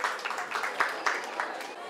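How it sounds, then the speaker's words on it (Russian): An audience at a cat show's young-animal ring claps for a Burmese kitten, giving a steady patter of many hands with regular louder swells, moderately near. "аплодисменты"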